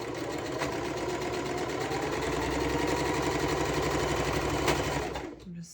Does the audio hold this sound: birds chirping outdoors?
no